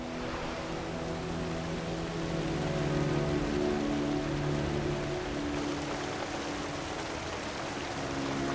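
Heavy rain falls across a city, a steady hiss of water that stays constant throughout, with a low traffic hum underneath.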